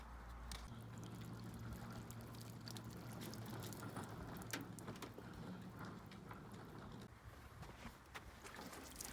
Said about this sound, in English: Let's soak her down with some water and call it a day.